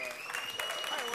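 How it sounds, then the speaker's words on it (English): Audience applause for guests on a Nigerian talk show studio, a brief burst of clapping mixed with a sustained tonal hum and background voices. "applause for all of my guests there."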